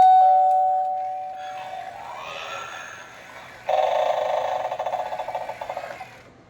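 A Halloween doorbell decoration plays a spooky sound: a chime-like tone fades, then a wavering eerie cry rises and gives way to a harsh, rattling neigh-like screech that pulses and dies away.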